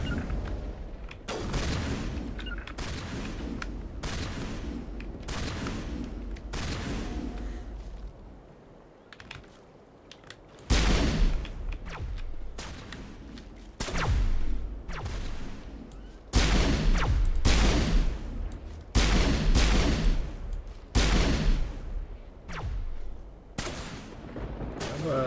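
Gunfire crossfire in a Mass Effect firefight against the Geth, sharp repeated shots and booms in bursts, loud and close, with a quieter lull midway before the barrage resumes heavily.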